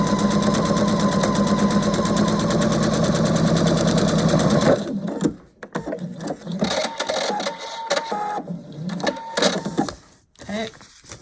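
A sewing machine runs a fast, steady stitch on a foundation-paper-pieced scrappy heart quilt block for about five seconds, loud and close, then stops and gives way to softer handling clatter.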